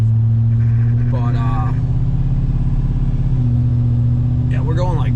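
Steady car engine drone and road rumble fill the cabin as it drives along back roads, a constant low hum throughout, with people talking over it.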